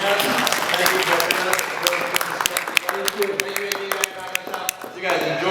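Audience applause fills the hall after a panel at WonderCon 2019, a dense wash of many hands clapping with sharp individual claps standing out, steady and close for several seconds.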